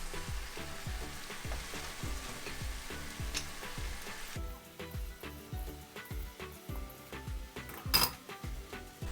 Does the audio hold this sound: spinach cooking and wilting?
yes